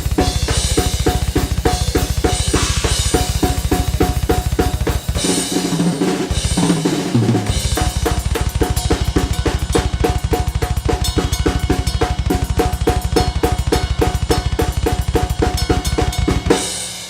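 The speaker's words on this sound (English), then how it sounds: "start playing 30-second notes on the skank beat" Metal drum kit skank beat driven by a double bass pedal in thirty-second notes, a loud, dense, rapid kick roll with steady snare and cymbal strikes, briefly thinning near the middle, played alone.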